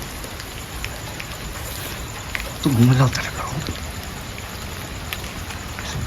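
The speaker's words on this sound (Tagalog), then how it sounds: "Basa na tayo sa ulan eh." Steady rain hisses on a surface at night through the whole stretch, with a man's brief exclamation and another voice cutting in over the middle.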